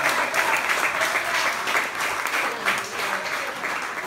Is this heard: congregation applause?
yes